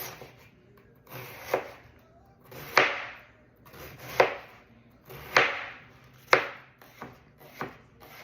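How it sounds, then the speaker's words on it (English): A knife slices a red cabbage into thin shreds on a board. Roughly a dozen crisp, close chopping strokes come in an uneven rhythm with brief pauses between them. No one speaks. "So I have a red cabbage here. I'm gonna chop this up really thin until I have about 2 cups."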